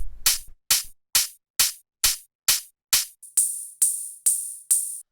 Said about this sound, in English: this much softer kind of like open hi-hat.